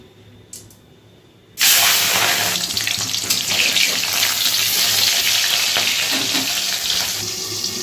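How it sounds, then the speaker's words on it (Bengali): Fish frying two pieces at a time in hot salted oil in a kadai, a loud, steady crackling sizzle that bursts in suddenly after a quiet start and keeps going with no talk. "মাছগুলো ভেজে নেব, দুটো দুটো করেই ভাজবো।"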